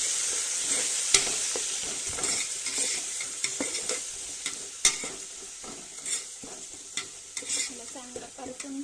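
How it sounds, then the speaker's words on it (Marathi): Chilli powder and chilli paste sauté in a pan while being stirred, a continuous sizzle broken by repeated scraping strokes and occasional sharp clinks of the utensil against the pan. "मला चांगलं परतून घ्यायचं मिरची पावडर मिरची पेस्ट"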